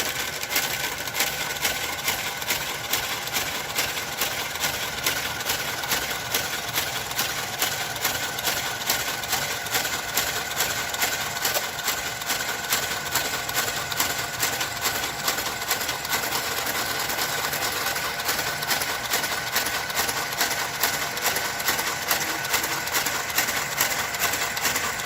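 A knitting machine works a jacquard blanket in a continuous, fast, even mechanical whir, with a rapid rattling texture and a steady level throughout, close by and with no talking.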